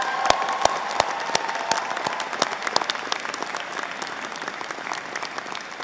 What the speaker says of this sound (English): And I would like you graduates to show your appreciation of your friends, of your family, by a round of applause for them.